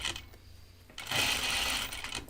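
A sewing machine stitches a 1940s dress with a close, rapid mechanical whir and needle chatter. It starts quietly, then surges into a louder, faster run for about a second.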